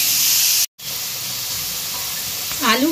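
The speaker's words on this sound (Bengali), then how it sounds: "এই আলুগুলোকে আমি খুব সুন্দর করে ভেজে নেব" Potatoes frying in hot oil for chicken tehari make a steady broad sizzle and hiss with a brief cutout, and a voice rises faintly near the end.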